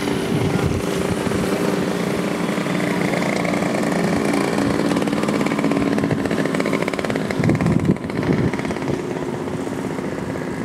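A steady, loud engine drone with a buzzing rattle from motorcycles idling and revving nearby at a motorcycle rental spot by the cruise port in Samaná, Dominican Republic, continuous throughout.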